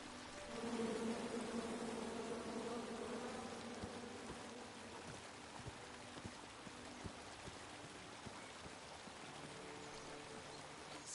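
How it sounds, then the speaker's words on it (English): Bees in the adventure game King's Quest hum with a faint, steady buzz that swells early on, then settles into a quiet drone with soft ticking sounds. "Come at me, bees!"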